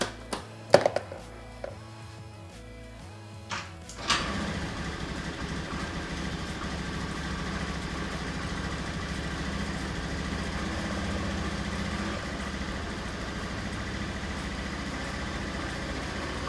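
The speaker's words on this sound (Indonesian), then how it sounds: "Oke teman-teman, mesinnya menjadi halus lagi" A Honda Beat FI scooter engine idles smoothly after a valve clearance adjustment, a faint steady low hum after a few sharp knocks at the start, with no one talking.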